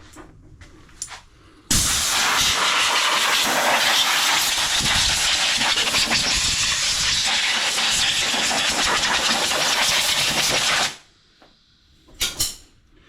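Compressed air blasts debris off the cover of a Craftsman push mower, a loud, steady hiss running about nine seconds before cutting off, followed by brief handling clatter.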